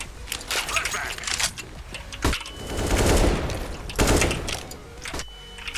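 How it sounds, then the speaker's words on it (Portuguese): Rapid bursts of gunfire in a Counter-Strike: Global Offensive match crack out in several clustered volleys, loud and sharp, with a longer rattling spray in the middle and scattered single shots. "É só dar um tiro no cimento"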